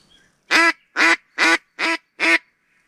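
Hen ducks on a remote wilderness river give five loud, evenly spaced quacks, close and alone against a quiet background.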